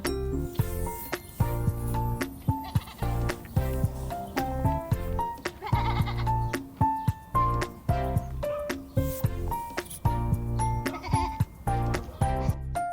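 Sheep on a farm bleat repeatedly and loudly, close by, overlapping calls coming in quick succession across the whole stretch with no talking over them.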